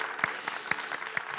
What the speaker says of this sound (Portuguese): Você pode aplaudir ao Senhor com alegria